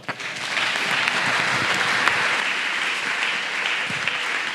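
A church congregation applauds at a Sunday service, sustained clapping from many hands rising quickly and holding steady throughout, dense and fairly close, with no voices on top.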